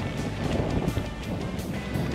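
Headwind buffeting the microphone on a gravel bike climbing a hill, a steady loud rumbling roar of wind noise throughout with no voice.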